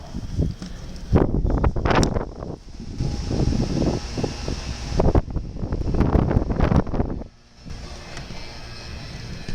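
Strong summer wind blows outdoors in the Netherlands, buffeting the microphone in loud, gusty rushes that swell and ease, with a brief lull near the end.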